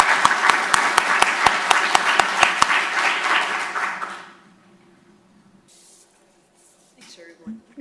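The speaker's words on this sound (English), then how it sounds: "So if we can give a round of applause to our panelists" Meeting attendees applaud the panelists at an all-hands gathering, with a dense, steady burst of clapping and a few sharp claps on top. The clapping fades out after about four seconds and leaves quiet room noise and faint shuffling.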